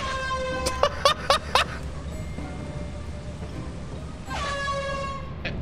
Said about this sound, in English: that air horn did absolutely nothing